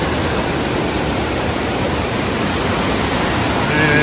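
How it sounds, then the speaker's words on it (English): Apple Orchard Falls on the Blue Ridge Parkway cascading below a bridge, a loud, close, unbroken roar of rushing water holding steady the whole time. "There's the water cascading down below the bridge."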